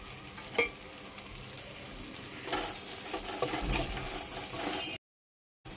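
Prawn and brinjal curry sizzling in a pan as chili powder is stirred through, a steady frying hiss with scraping stirs, loudest in the middle, then cutting to silence near the end.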